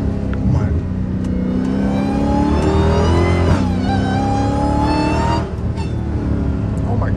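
A Dodge Hellcat Redeye with a new cold air intake revs hard close by, its loud engine roar rising and falling with a strong supercharger whine running through each rev.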